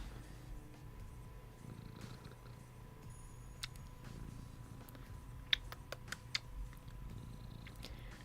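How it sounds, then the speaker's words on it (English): Soft, steady purring from a young cat close by, a continuous low rumble running throughout with a few brief clicks and taps over it. "As long as you can hear me over cat purring."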